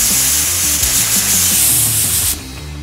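A spray gun mists clear coat onto a car panel during a smart repair blend, giving a loud, steady hiss that runs almost three seconds and cuts off near the end, with no talking.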